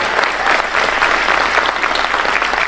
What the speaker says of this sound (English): Could you give Dr. Stacy and Brent a nice round of applause for that?